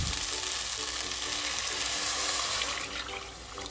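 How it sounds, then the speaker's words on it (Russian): Water, about a liter, poured into a hot pot of Turkish ezogelin lentil soup, a broad loud hiss and sizzle rushing steadily for several seconds before easing slightly near the end, with no talking. "Теперь добавляем сюда 1 литр воды."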